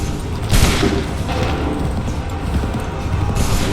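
Musket volley in Assassin's Creed III, booming gunfire bursts erupting over a dense, loud battlefield din with rumbling low-end noise and overlapping shots.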